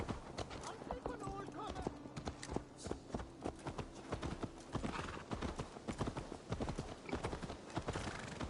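Horse hooves clip-clopping in Assassin's Creed Valhalla on PS5, a steady rapid rhythm of close hoof strikes with a brief whinny, mixed with speech and game sounds.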